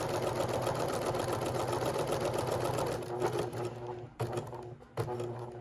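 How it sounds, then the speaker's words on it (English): A domestic sewing machine backstitches along a seam line on a half-scale sailor-style playsuit collar, a steady close whir of rapid stitching that slows, pauses briefly and restarts in short bursts near the end. "And then you're going to go back up that stitch line again."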